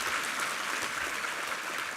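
A church congregation applauds its choir and conductor after a Sunday service anthem, a steady, even wash of many clapping hands throughout, moderately loud and without voices.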